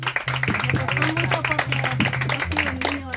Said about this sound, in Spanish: Ahí está, aplauso.